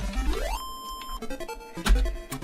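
A phone ringtone plays a bright electronic melody of rising and steady synthetic beeps, clear and close, over faint game noise in the background.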